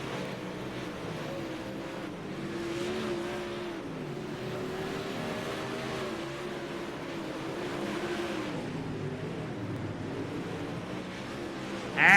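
Super late model race cars at Limaland Motorsports Park make a continuous, fairly loud engine roar that rises and falls gently as the pack laps the track.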